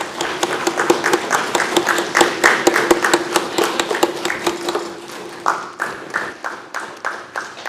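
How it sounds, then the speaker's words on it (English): A brief burst of audience applause at a book launch event, sharp individual claps in a fairly regular rhythm, not a dense crowd, sounding close and fairly loud. "give a big round of applause"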